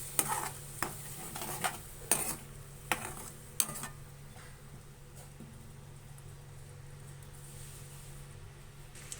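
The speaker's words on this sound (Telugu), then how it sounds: "సో ఇది మొత్తం బాగా మిక్స్ చేసుకోవాలి" Egg curry mixture with tomato paste stirred in a pan, a faint sizzle with sharp spoon scrapes and taps clustered early, then a quiet simmering hiss, no voices.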